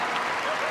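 A crowd applauds at a Kennel Club dog agility final, a dense, continuous wash of clapping throughout the short moment.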